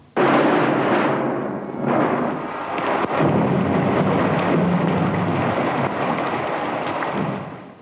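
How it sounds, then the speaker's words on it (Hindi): Heavy thunderstorm sound effect with rolling thunder over a dense roar of pounding rain, loud and continuous with a couple of sharper cracks, no voices. "गड़गड़ाहट बढ़ने लगी, ओले पड़ने की संभावना थी।"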